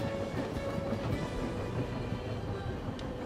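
Rocky Mountaineer passenger train running along rails beside the water's edge near Chuckanut Bay, a steady rumbling roll with faint rhythmic clatter and a constant low hum, heard from on board at moderate level.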